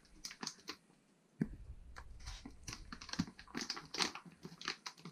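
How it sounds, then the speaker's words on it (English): Peeling the sticker off an espresso package, close, crinkly crackling and rustling of packaging in a busy run of small ticks and pops over a few seconds. "you're going to peel off the sticker"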